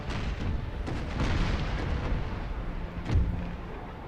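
Cannon fire in Napoleon Total War, a napoleonic battle with rows of artillery pieces on either side, rumbling as a steady dense roar of distant booms with one heavier blast near the end.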